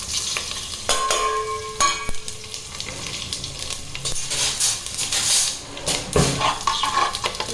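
Whole spices dropped into hot ghee and oil for biryani sizzle and crackle in a pan, with metal clinks from a spoon and pot at close range, and no talking.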